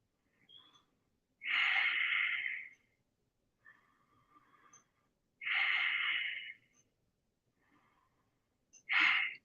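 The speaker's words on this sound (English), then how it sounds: "Now rest up, take deep breaths." Deep, heavy breathing while resting after an exercise routine: three loud, drawn-out breaths about every four seconds, with softer, quieter breaths in between, close and with no talking.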